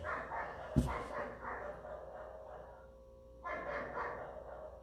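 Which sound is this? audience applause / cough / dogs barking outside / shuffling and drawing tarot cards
dogs barking outside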